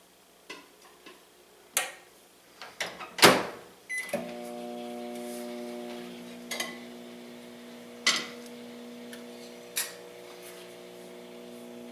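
A microwave oven runs with a steady hum heating nachos, after a few sharp clicks and clatters of the door and buttons; the hum continues with occasional brief ticks, no one speaking.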